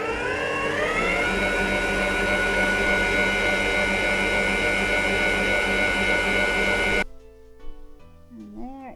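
Electric mixer whisking maple syrup into a vegan meringue, a steady loud whirring drone that holds for about seven seconds, then cuts off, leaving quieter clinks and a short voice.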